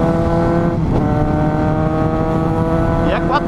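A Suzuki GSX-S750 four-cylinder motorcycle engine revs close by, a loud steady roar with rising pitch sweeps near the end.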